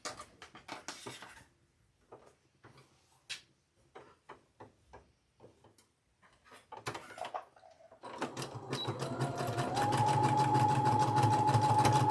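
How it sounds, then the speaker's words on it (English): A sewing machine stitches a T-shirt quilt, running steadily and loudly for the last few seconds after scattered handling clicks and taps. "We're just going to lay them right there and sew it on"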